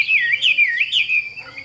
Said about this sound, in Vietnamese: Chim vừa hot vừa ăn, rất là đói các bác ạ.